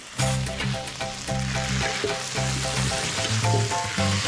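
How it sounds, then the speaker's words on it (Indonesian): Spice paste sautéing in a pan for an Indonesian fern dish, a steady, fairly loud sizzle and crackle running throughout beneath background music with sustained tonal notes. "tumis bumbu sampai harum"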